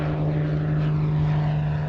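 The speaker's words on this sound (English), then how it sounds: "Planes continue to land and take off daily at the Kickapoo Airport." Propeller airplane at Kickapoo Airport, a steady low droning engine hum with a strong constant tone, fairly loud and continuous throughout.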